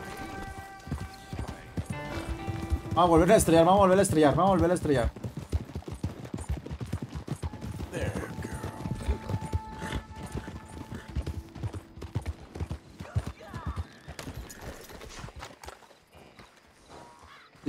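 Horse hooves clip-clop in Red Dead Redemption 2 with a rapid, steady rhythm and a whinny near the start, while someone talks over the game sounds.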